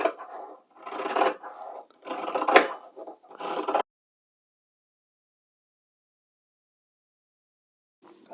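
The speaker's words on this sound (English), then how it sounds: "we actually want to trim down the seam allowance of the piping" Fabric scissors trim the seam allowance of sewing piping down to about half an inch, giving several close, dry rasping snips in quick bursts over about four seconds before the room falls silent.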